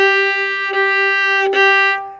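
A sustained, bright violin note bowed at the frog without pinky control, steady and loud, with audible bumps and surges near each bow change.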